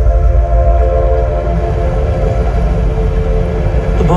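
Train sound effect in an outdoor light and sound show at Ambazari Garden, Nagpur: a loud, steady rumble of rolling rail cars with a sustained whistle-like tone over it and no speech.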